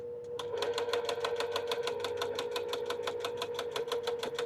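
A sewing machine stitches a baby quilt along a pressed crease, a fast steady clatter of needle strokes with a constant motor hum, close and uninterrupted.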